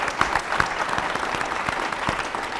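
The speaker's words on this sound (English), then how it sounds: "I think that's worthy of some applause." Audience applause at a panel discussion on rural opportunities, a steady patter of clapping from a modest crowd that carries evenly through the moment.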